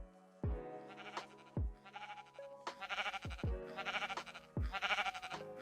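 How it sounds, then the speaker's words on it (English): Minecraft sheep bleat sound effects play as a series of about five short, wavering baa calls, each separated by a brief pause and heard alone without talk. "And you can hear we got the sheep sound."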